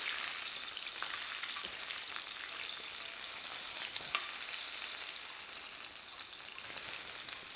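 Blue grenadier fillet frying skin-side down in a pan, a bright, steady hiss of hot oil with faint crackles, close and uninterrupted by voices.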